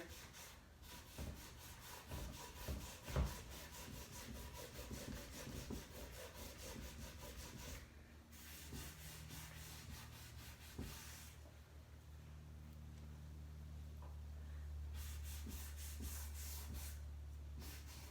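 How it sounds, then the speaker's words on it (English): A cloth rubs over painted wooden coffee table furniture, distressing the top coat so grey paint shows through, in steady back-and-forth scrubbing strokes that run close and continuous throughout, with occasional knocks. "I'm rubbing and just letting it naturally, the grey pop through."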